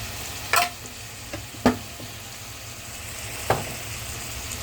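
A spoon stirs chili powder into cauliflower curry in a pan, with a few distinct scraping strokes against the metal over a soft, steady sizzle.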